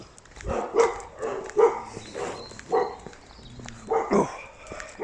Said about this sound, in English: There's always dogs around here go off.